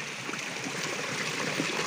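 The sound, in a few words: water flowing from a small natural spring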